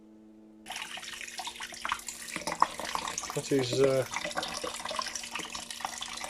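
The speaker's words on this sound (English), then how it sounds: "I've just taken that, plumped it right into the shower hose. It's piddling out in all directions" Warm water runs from a camper van shower hose and sprays out in all directions, a steady close hiss and splatter that continues under a brief spoken remark.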